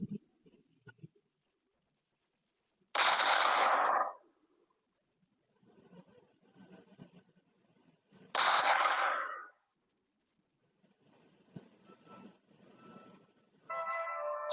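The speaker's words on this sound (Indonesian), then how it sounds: "Suara tembakan terdengar dari kejauhan." Two sharp gunshots crack out several seconds apart, each trailing off in an echo, with faint murmuring in the quiet between them.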